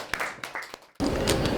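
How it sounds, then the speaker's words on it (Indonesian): Applause for a student's classroom answer about AI, a broad burst of clapping that starts suddenly and holds steady and fairly loud after a brief quieter stretch of scattered taps. "tepuk tangan untuk Mbak Siva"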